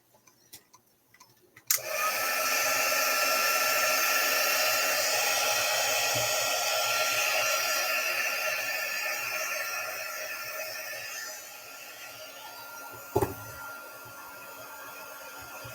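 A small craft heat tool blows a steady, loud stream of air to dry stamping ink; it starts suddenly after a couple of faint taps, runs evenly, then softens slightly, with one sharp click near the end and no talking.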